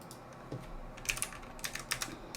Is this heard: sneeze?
no